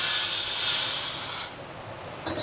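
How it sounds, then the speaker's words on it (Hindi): Fenugreek seeds roasting in a pan as spices are readied for a spicy mango pickle. A loud, close, steady hiss fades after about a second and a half, then a short burst of hiss returns at the end. "ये मेथी देखो चिटचिटाने लगी है"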